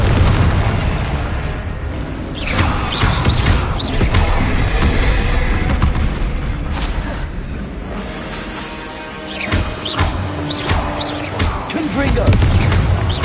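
Repeated blasting explosions from the Confringo curse burst out in a Harry Potter video game. The loud booms and crashes come one after another over a busy backdrop, with voices mixed in.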